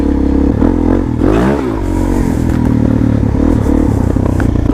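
A 2017 Suzuki DRZ400sm motorcycle under way, heard from a swingarm-mounted position: a loud, steady engine drone with shifting revs and a swooping pitch change, plus road rumble and clatter throughout.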